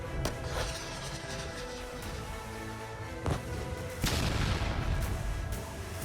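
Heavy booms and crashing blasts from a night-time military war exercise held about 150 km from the Pakistan border, with sharp loud impacts near the start, around the third second and just after the fourth, over a dense continuous rumble.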